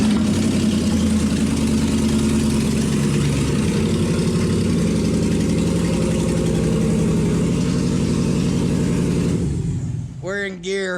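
An LS-swapped car engine starts for the first time and idles loud and rough with no exhaust fitted, a close, continuous heavy rumble, before it cuts off near the end and a voice speaks.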